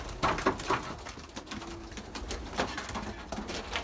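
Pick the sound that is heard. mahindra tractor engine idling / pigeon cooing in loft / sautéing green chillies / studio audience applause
pigeon cooing in loft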